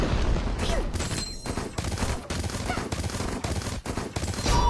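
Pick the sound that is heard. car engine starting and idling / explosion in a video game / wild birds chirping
explosion in a video game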